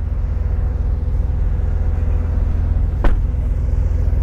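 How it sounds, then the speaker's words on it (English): A steady, deep engine rumble from a Brabus-tuned sports car idling or cruising, loud and continuous, with a brief sharp click partway through. "This car just sounds so much more menacing than the standard Turbo S."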